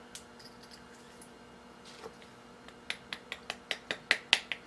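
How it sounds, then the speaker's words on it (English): A metal pin being driven out of a small steam engine part with a hammer. A few scattered taps come first, then a quick run of about nine sharp, evenly spaced metallic knocks that grow louder, close and clear. "Knock this pin out."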